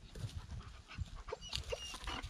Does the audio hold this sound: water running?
no